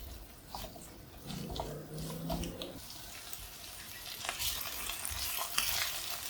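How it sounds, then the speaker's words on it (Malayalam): Potatoes sauté in oil in a pan for a cauliflower dish, a quiet close sizzle with occasional spoon taps and stirs, and a short tonal hum partway through. "പൊട്ടറ്റോ ഒന്ന് നന്നായിട്ട് ഇതിനകത്തൊന്ന് കളറൊക്കെ മാറി ഒന്ന് ഏകദേശം ഒരു ഹാഫ് കുക്ക് ആവുന്നവരെ ഒന്ന് വഴറ്റി കൊടുക്കാം"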